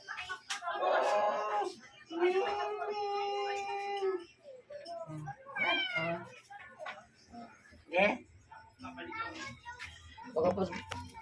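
A stray cat meows repeatedly in drawn-out, plaintive cries, close and fairly quiet, with a person's voice speaking in between.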